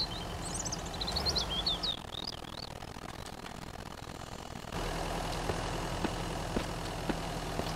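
A car engine in the survival game Mist Survival starts up and settles into a steady low idle, a continuous rumble running alone with a few brief clicks and chirps layered over it.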